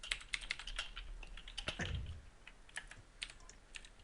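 Rapid clicking of keys on a computer keyboard, an irregular patter of close, fairly quiet keystrokes continuing throughout.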